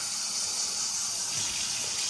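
Warm water runs steadily from a tap or pours into a bowl of dry ingredients for focaccia dough, a continuous close splashing gush with no talk.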